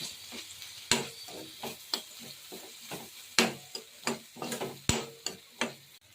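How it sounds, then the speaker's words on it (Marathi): Corn chivda is tossed in a pan with lemon juice, salt and sugar, giving a string of soft, irregular scraping and stirring taps over a faint, low sizzle. "मीठ, साखर आणि थोडंसं मीठ हे परतून घेणार आहे।"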